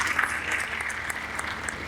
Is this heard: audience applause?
yes